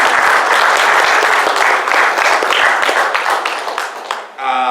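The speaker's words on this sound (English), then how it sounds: "Give her a round of applause." An audience applauds at a Masonic lodge centennial event in Culver City, honoring a home economics teacher, with dense, steady clapping that fades toward the end before a brief voice cuts in.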